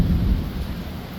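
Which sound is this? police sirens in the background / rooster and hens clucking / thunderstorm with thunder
thunderstorm with thunder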